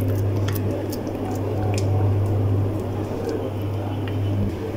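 Ghee being rubbed by hand onto freshly kneaded dough for halwa puri: a soft, continuous, close squishing texture over a steady low background hum.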